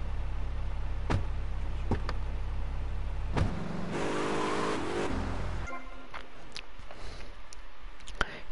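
Car engine hum and transmission whine from a vehicle driving in GTA Vice City, steady low drone with a few sharp clicks and a brief shift in tone midway, no talking.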